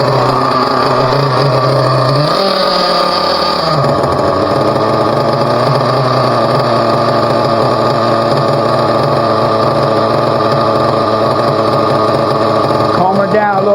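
A Team Associated nitro RC car engine runs continuously during break-in, a loud, high, buzzing whine with steady harmonics that dips in pitch briefly before settling into a sustained idle.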